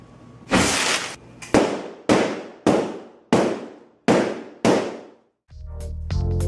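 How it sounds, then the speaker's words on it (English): A powerful gun loaded with titanium-infused gunpowder fires seven sharp, loud shots at a computer case, evenly spaced about every three quarters of a second, each blast decaying quickly, followed by a softer rumbling tail. "Let's shoot through this computer case."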